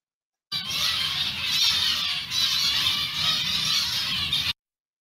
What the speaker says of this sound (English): So these are many birds and they're calling to each other all the time.